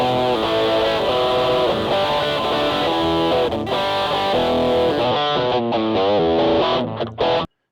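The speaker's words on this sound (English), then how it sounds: "we'll throw some Class B distortion on." Electric guitar chords through a Class B distortion circuit, drenched in harsh, fizzy distortion, loud and continuous, ringing out for several seconds before cutting off abruptly at the end.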